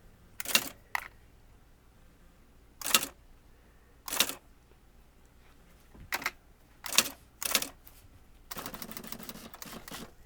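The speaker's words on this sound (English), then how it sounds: "Let's just type something." An IBM Lexmark Wheelwriter electronic correcting typewriter strikes sharp, isolated clacks at uneven intervals over a quiet background, then ends in a fast rattling run of keystrokes.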